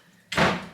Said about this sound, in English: Oh my God, this fridge door